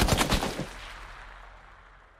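A rapid burst of close automatic gunfire in the video game PUBG, about five quick shots in half a second, then a fading echoing tail.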